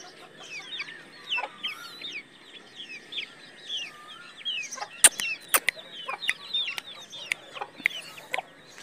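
A hen in a village yard clucks in a busy run of short calls, with a few sharp knocks and clicks breaking in from the middle onward and no voices.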